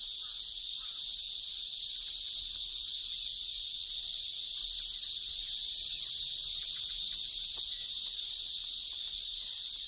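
A dense chorus of cicadas shrills continuously from forest trees, a loud, unbroken high-pitched hiss with no pauses.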